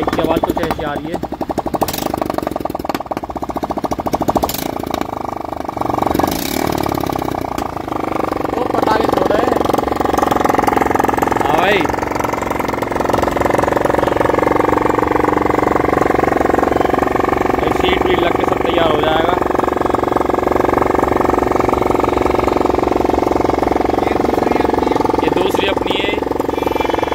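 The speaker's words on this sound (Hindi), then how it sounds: "और ये हमारी बाइक की आवाज कुछ ऐसी आ रही है।" A homemade motorbike's engine runs continuously, a loud rough sputtering drone with a rattling edge that holds steady throughout, with faint voices in the background.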